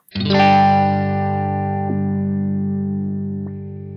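A loud, distorted synth tone starts abruptly and holds, with a filter stepping in hard, choppy jumps and faint clicks as it sustains.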